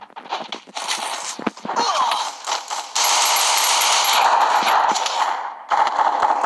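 Shotgun gunfire in the Free Fire battle royale game comes as dense, loud bursts of shots, mixed with running footsteps and other game effects, with almost no pause between blasts.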